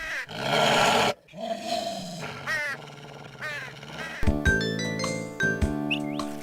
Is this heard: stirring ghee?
no